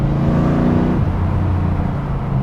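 A 1998 TVR Chimaera's engine drones loudly from inside while driving, its pitch dropping sharply at a gear change before settling into a steady lower hum.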